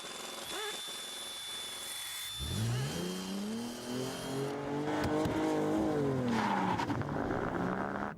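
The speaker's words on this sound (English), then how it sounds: "Well, the first thing you notice is that you think the handbrake's still on because there's a lot of rolling resistance with the flat tyres" A car lapping a track on four flat run-flat tyres, its engine revving up and pulling hard with a steady grinding drone throughout, loud and close.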